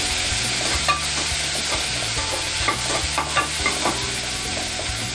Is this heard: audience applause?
no